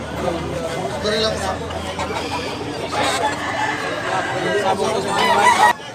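Gamefowl roosters crow and cluck at a crowded Tabunok, Cebu market, the calls mid-distance and partly buried under continuous talk and crowd babble.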